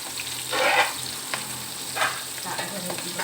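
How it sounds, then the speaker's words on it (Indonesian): Salted fish (iwak bakar) fries in a pan in a home kitchen, giving a continuous close sizzle broken by a few louder bursts of spattering and stirring, with no one talking. "Tak goreng iwak bakar juga."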